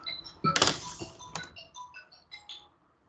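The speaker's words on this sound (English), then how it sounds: "Phone ring." A phone goes off with a ringtone of short, high tonal beeps repeating over about three seconds, mixed with a thud and light clatter near the start. No one speaks.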